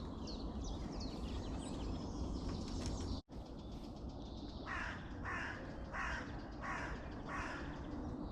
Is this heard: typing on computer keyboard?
no